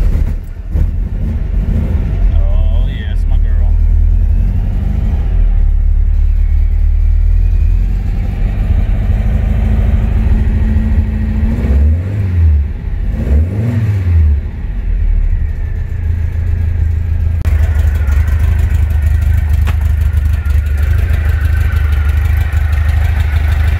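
A classic Volkswagen Beetle engine running loud and close, a steady low idle with a couple of brief throttle blips partway through, and no talking.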